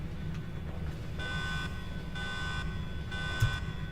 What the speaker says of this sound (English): Nice Lotus alarm.